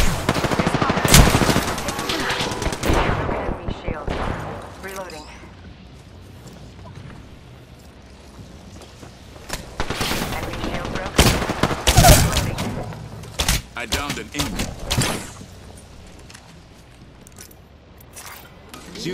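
Bursts of video game gunfire, rapid automatic volleys mixed with single shots and mechanical clatter, come in loud clusters separated by quieter stretches.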